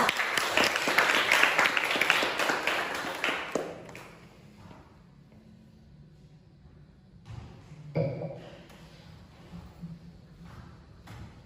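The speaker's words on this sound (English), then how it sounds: "Give applause for her." A crowd applauds with loud, dense clapping for a few seconds at a student education talk, then it stops, leaving a quiet room with scattered taps and shuffling.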